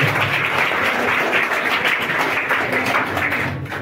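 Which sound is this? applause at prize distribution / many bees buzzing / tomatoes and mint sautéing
applause at prize distribution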